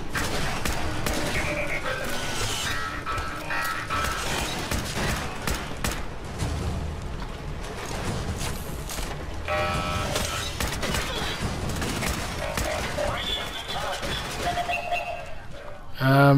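Automated turrets in Fallout 4 rattle off dense, continuous gunfire through a chaotic fight, with bursts, impacts and clatter overlapping throughout and a heavy thump near the end.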